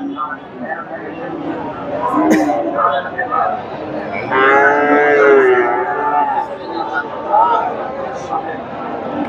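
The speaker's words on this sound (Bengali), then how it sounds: "এখানে একটা দেখেন বকনা গরু" A Friesian heifer gives one long, deep moo in the middle, set against a busy background of voices and chatter at a cattle market.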